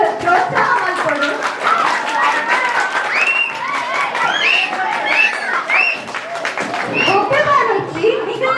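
An audience claps to cheer on children at a two-day children's camp, a dense, continuous patter of hands that stays loud throughout while children's voices and talk run underneath.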